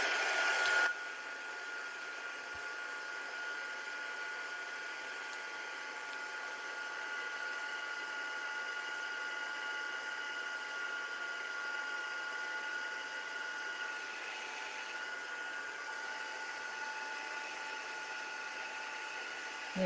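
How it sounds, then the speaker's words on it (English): A heat gun blows steadily on embossing powder on a candle, making a continuous airy whir with a fan hum that holds at an even level for the whole stretch after a brief opening burst. "let's heat emboss this"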